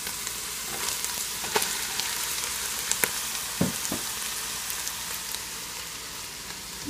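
Chopped onion and garlic sizzle in a pot for a Detroit-style spaghetti sauce, a steady, quiet frying hiss broken now and then by stirring clicks and scrapes.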